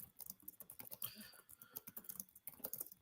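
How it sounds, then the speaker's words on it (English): Rapid, steady typing on a computer keyboard, with dense quiet key clicks pattering continuously throughout and no talking over them. "as I finished typing in the graphic"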